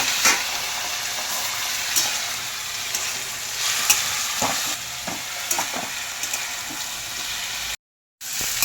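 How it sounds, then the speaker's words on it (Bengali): Mixed vegetables frying in a hot pan for a mixed veg paneer dish, with a loud continuous sizzle and repeated scraping strokes of a spatula stirring, then a brief drop to silence near the end. "সবজিটা আমার ভাজা হয়ে গেছে"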